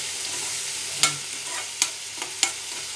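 A little milk added to egg bhurji frying in a pan gives a constant close sizzle, broken by three or four sharp clicks of a spoon stirring against the pan.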